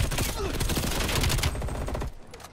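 Rapid automatic fire from a Diamond AK-74 assault rifle in Call of Duty: Black Ops Cold War, a loud close burst of shots lasting about two seconds before cutting to quieter game ambience.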